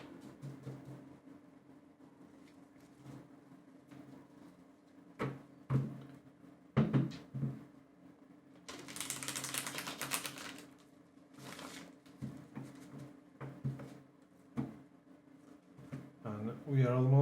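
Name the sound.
shuffling tarot cards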